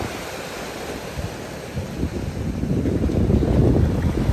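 Sea waves wash against a wave breaker along a coastal road seawall in Davao City, heard as a steady roar of surf and wind that grows louder and rougher toward the end, with no voices.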